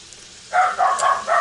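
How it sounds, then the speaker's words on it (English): A dog in a home kitchen gives a short run of about four sharp barks, close and loud, one right after another. "she barks"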